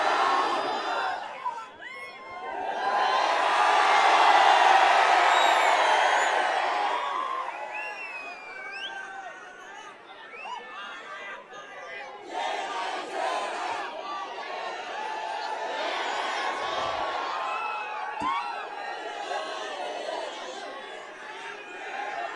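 A large crowd at an AIMIM election rally in Aurangabad East answers a religious chant with a loud swelling roar of shouts and cheers, then settles into a sustained, slightly softer mix of chatter and calls.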